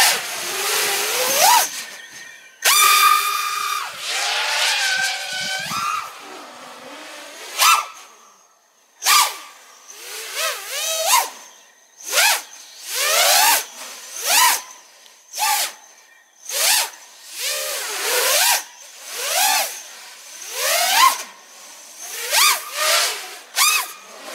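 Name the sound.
racing drone propellers at full throttle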